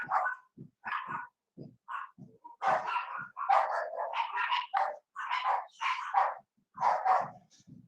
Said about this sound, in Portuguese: os cachorros latem